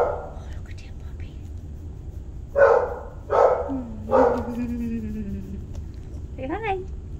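A puppy gives three short yips about a second apart, then a thin drawn-out whimper. A soft, whispery human voice murmurs nearby in a quiet indoor room.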